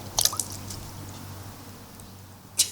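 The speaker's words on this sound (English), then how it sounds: "before we can apply the fiberfix, we need to soak it for 10 to 12 seconds in this water" A FiberFix repair wrap is soaked in warm water, giving a few faint, brief squishes and drips near the start and one more at the end over quiet background.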